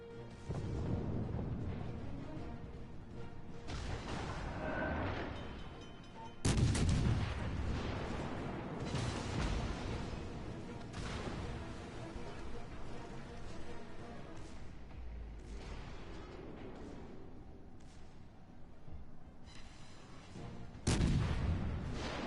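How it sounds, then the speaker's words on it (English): Naval artillery and gunfire from warships in the World of Warships game: heavy booming salvos and crackling shots keep rolling over a dense battle din, with two especially sharp, loud blasts standing out. "Ship is on fire. Now I've got the bow pointed towards the fuso. Torpedoes away."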